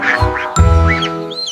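Cartoonish duck quacks sound over a bright sing-along nursery rhyme tune, a few quick quacks in a row riding on sustained musical notes.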